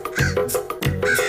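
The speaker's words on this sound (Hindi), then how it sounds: "तेरे चीख से कौवे उड़ गए" Crows caw loudly and close as they take flight, a rapid run of harsh, rasping calls repeating in quick succession with no talking.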